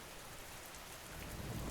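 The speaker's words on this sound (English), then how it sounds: "He listened to the rain" Steady rain falls on the lead panes of a window, a soft, fine, continuous hiss with a faint low rumble underneath.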